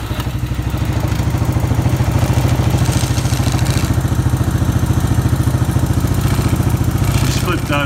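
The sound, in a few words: 1996 Suzuki Quad Runner ATV engine idling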